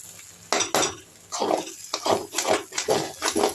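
Vegetable kothu parotta with kurma being stirred in a pan, with repeated scraping and clinking strokes of a utensil against metal in an uneven rhythm, close and fairly loud.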